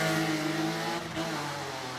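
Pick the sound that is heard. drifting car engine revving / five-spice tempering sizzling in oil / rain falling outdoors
drifting car engine revving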